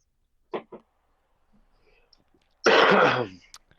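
Two quick throat-clearing grunts, a pause with faint rustling, then a longer, louder rasping throat clear close to the mic.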